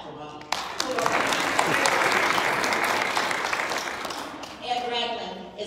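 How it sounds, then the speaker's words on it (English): An audience claps together in a steady burst of applause that swells quickly, holds, then tapers off, with a voice speaking briefly at the end. "Shoot, we got a clap for Bobby."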